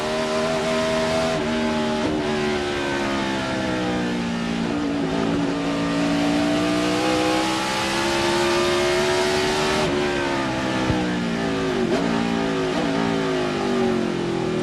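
A stock car at the 2005 Dodge/Save Mart 350 road-course race revs loudly and steadily, its engine pitch climbing, dipping and rising again through upshifts into high gear, with no talking over it.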